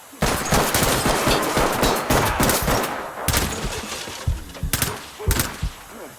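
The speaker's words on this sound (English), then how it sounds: "This is a 2-round burst" Gunfire rings out in a tactical shooter video game, with sharp loud shots including quick two-round bursts amid dense, continuous rattling fire and impacts, close and intense.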